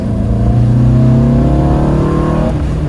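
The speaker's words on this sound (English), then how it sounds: "What do you think of that induction, Zach?" A Porsche 914 engine revs up loudly and steadily, pitch climbing with a strong intake roar, then easing off near the end.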